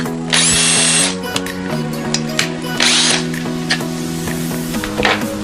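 A power drill bores through a metal clamp in a workshop, running in several loud whirring bursts with short pauses and some grinding changes in pitch between them.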